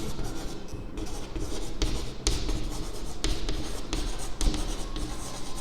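Pen or chalk scratches out handwriting during a maths lesson, a steady run of close, dry strokes with small taps and pauses between words.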